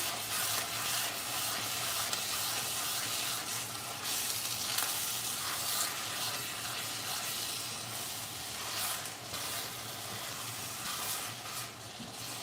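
Canned food being stirred in a cooking pot, a continuous close hiss and sizzle with soft scraping strokes running steadily underneath, fairly even in level and with no voices.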